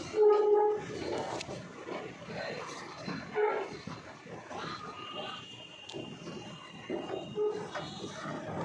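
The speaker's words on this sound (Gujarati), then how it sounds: "મેટ્રો આવી ગઈ છે" A metro train pulls in amid a busy, reverberant station hum in Ahmedabad, with faint voices and scattered clatter; a high tone rings out briefly near the start.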